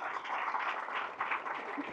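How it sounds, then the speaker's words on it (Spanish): A church congregation applauds, a band-limited wash of clapping that rises and falls gently for about two seconds before a sudden loud burst at the very end. "Fuertes aplausos al Señor Jesús."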